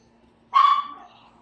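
A single short dog bark, sharp and fairly close, rises out of a quiet room with a faint steady electrical hum beneath it, then trails off quickly.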